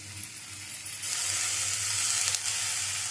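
Spices with salt frying in a pan in a home kitchen, a steady close sizzle that grows louder partway through with a few faint clinks and no talk.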